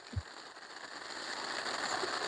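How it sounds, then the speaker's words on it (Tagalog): Heavy rain pouring down at a mountain campsite in Ambaguio, Nueva Vizcaya, a faint steady hiss of rainfall with a soft thump near the start, no talk. "Lakas ng ulan."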